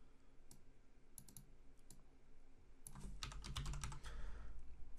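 A computer keyboard is typed on, with sparse single clicks early and then a faster run of keystrokes that grows slightly louder toward the end.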